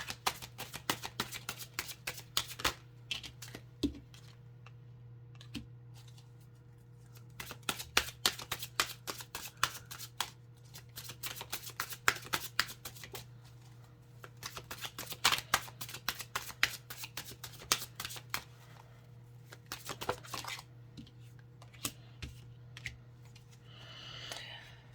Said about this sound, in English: I'm just kind of pulling these cards